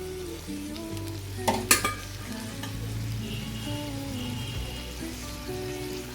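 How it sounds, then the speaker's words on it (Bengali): Hilsa fish broth heating in a pot, a steady low bubbling simmer with a brief louder clatter partway through, close by and with no voices. "এখানে আমি এই ঝোলটাতে ফুট আসা পর্যন্ত অপেক্ষা করছি।"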